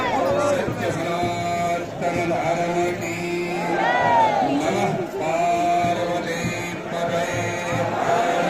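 A huge crowd of pilgrims packs the courtyard of Kedarnath temple as the Panchmukhi doli palanquin arrives, a loud, continuous roar of cheering, chanting and overlapping shouts close by.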